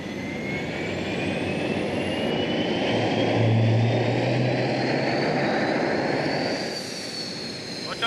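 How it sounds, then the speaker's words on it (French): A Mirage IV jet's engine spools up on start, giving a loud, steady roar with rising whines sweeping upward and a low rumble swelling midway before easing slightly. "Top démarrage."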